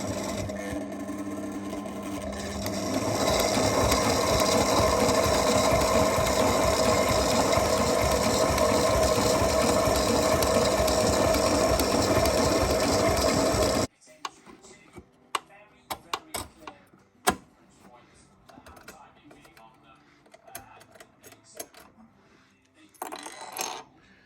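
A sewing machine runs steadily, stitching white Velcro onto a sailboat's cockpit clears. It gives a continuous close mechanical whir for about ten seconds, then stops, leaving sparse small clicks and handling sounds.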